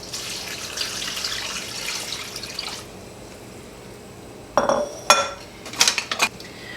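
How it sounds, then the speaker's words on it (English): Water splashes and pours into a pot of corn for a few seconds, then a short clatter of metal and clinking as the pot is handled. "So we're going to add our water to our corn."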